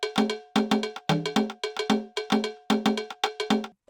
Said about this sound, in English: Got the cowbell.